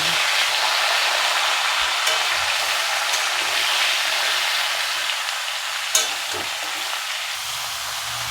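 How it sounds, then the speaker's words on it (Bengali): Shukto vegetables with turmeric hiss steadily in a frying pan, a broad close sizzle with occasional scrapes and knocks from stirring, one sharper clack near the end. "দিয়ে দেবো পরিমাণ মতো হলুদ, দিয়ে এখন এটাকে আমি একটু নাড়াচাড়া করে নেব"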